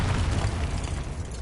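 A Confringo blasting spell goes off in Hogwarts Legacy, a dense, rumbling burst with a heavy low boom that rolls on steadily for over a second with no pause.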